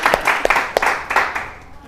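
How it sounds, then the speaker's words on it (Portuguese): An audience claps during a motivational mindset talk, a brief round of applause with several sharp, distinct hand claps standing out over a softer, thinning patter. "Palmas para vocês, vocês descobriram."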